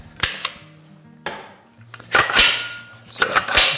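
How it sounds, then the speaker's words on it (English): Removing the magazine from a CZ Scorpion 3 Plus pistol gives a few sharp, close metallic clicks and clacks, spaced unevenly between short pauses, with no speech. "Take the mag out."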